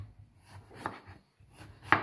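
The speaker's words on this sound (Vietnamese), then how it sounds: "Bây giờ mẹ cắt bí" A knife chops through winter melon on a home kitchen board, giving a few soft, quiet cuts spaced out over two seconds, with a sharper chop at the end.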